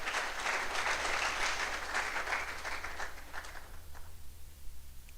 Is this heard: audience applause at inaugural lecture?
yes